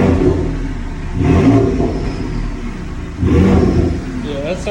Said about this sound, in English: Yeah, go ahead and rev it up a little bit.